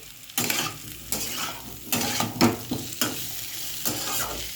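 Ginger, garlic and onion fry in a pan while being stirred, a steady sizzle broken by repeated scraping strokes at an uneven rhythm, close and fairly loud with no voices.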